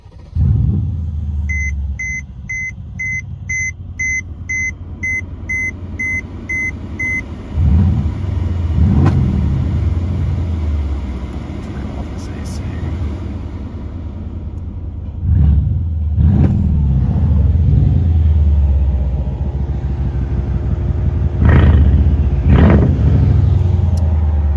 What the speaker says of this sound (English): And here, let me start it up.